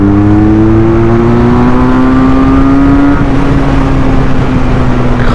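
A QJ Motor SRK 400 two-cylinder naked motorcycle engine revs loudly up close, a steady throaty drone whose pitch climbs and then holds, with no voices.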